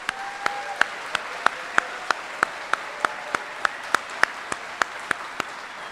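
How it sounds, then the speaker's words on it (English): An audience at an Army retirement ceremony applauds retiring soldiers with sustained, even clapping that fills the hall. A single louder clap lands at a steady beat within the ovation. "please join me in a round of applause for these 28 great soldiers"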